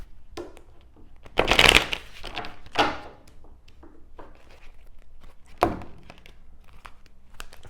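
Tarot cards being shuffled by hand at close range, quiet papery riffles and slides with a louder burst near the start and a few softer flurries and taps after.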